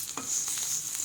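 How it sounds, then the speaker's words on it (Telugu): Small pieces of bitter gourd frying in a little oil, a steady close hiss and crackle of sizzling with brief stirring scrapes, no talk. "కొంచెం నూనె వేసి చిన్న ముక్కలు పోసుకొని వేపుకోవాలి"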